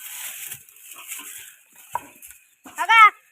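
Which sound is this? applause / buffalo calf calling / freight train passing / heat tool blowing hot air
buffalo calf calling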